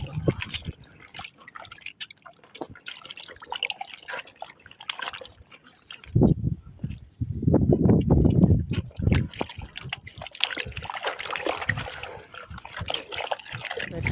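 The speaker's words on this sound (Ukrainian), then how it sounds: "зливаю воду, зливаю на тюльпани" Water splashes and trickles as it's poured out onto tulips in a planting box, with drips and a louder gushing stretch in the middle, heard up close.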